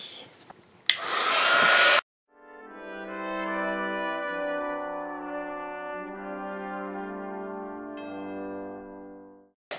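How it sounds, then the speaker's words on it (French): A heat gun melts embossing powder on a handmade pop-up mouse card, blowing a steady, loud whirring drone for about eight seconds after a brief burst of noise, then cutting off. "Et je mets ma poudre. Et je passe le tout au pistolet."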